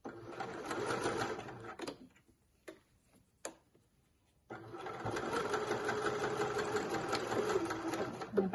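A sewing machine stitches a curved seam in fabric, running steadily at close range, pausing briefly with a few clicks, then running continuously again.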